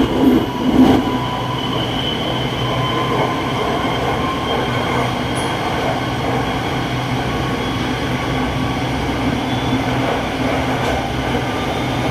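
An electric commuter train on Bangkok's Red Line rumbles along continuously at close range, with a steady mechanical roar, faint rail clatter, and a couple of brief sharp clicks.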